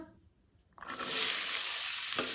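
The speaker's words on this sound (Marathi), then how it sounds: "तेल तापले तशें तातूंत हांव कांदो घालता।" Chopped onions go into hot oil in a pan and start frying, a quiet pause giving way to a steady, close sizzle that holds until the end.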